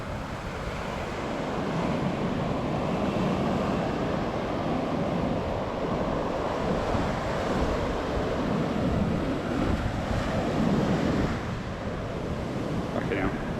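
Rough ocean surf breaking at a beach in Portugal, a continuous crashing roar mixed with wind buffeting the microphone, steady and fairly loud throughout.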